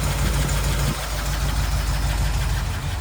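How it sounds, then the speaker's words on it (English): A 1979 Jeep CJ-5 with a 304 V8 and Holley 4-barrel carburetor idles steadily up close, a loud continuous low rumble with slight knocking texture and no voices. "Listen to that 304 V8."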